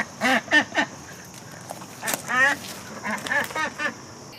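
Several domestic ducks quack in short, loud, nasal bursts that come in quick clusters with brief pauses between them, close to the microphone.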